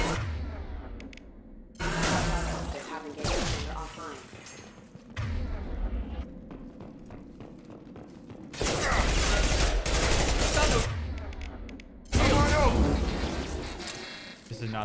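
Pistol gunfire and combat effects in the shooter game Mass Effect 2, loud bursts of repeated shots in several dense stretches separated by short pauses, with someone talking over the action.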